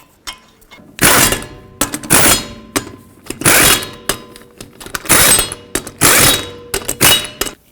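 An impact wrench runs lug nuts onto a wheel of a 2006-2011 Chevrolet HHR, firing in repeated loud, rattling bursts with brief clanks and gaps between them.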